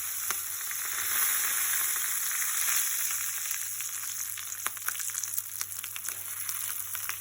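Asafoetida and curry leaves frying in hot oil for a garlic chutney, a steady close sizzle with scattered small pops throughout and no voices.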